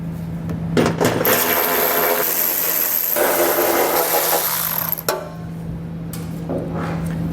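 A power ratchet spins off the 10mm nuts holding the heat shield under a 2022 Lincoln Aviator, a loud buzzing burst of several seconds against a steady hum, with short clicks before and after.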